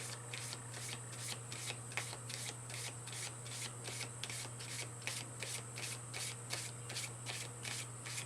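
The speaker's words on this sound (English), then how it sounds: "Let's just pull one more card generally." Tarot cards are shuffled by hand in quick, even riffles that repeat about twice a second for several seconds, close and clear over a low steady hum, with no talking.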